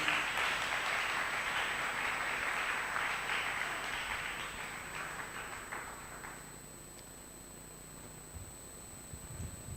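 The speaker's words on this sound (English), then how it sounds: "let's give a hand to our MP who is just taking his seat here" Scattered audience applause for a member of parliament taking his seat at a church gathering, a thin, uneven patter of hand claps that swells briefly and then fades out over several seconds.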